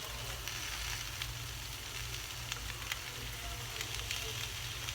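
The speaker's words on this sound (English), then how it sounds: "I'm going to use some butter, and I'm going to just throw that down here" Butter and oil sizzle steadily on a hot Blackstone flat-top griddle, a continuous close crackling hiss with small pops scattered throughout.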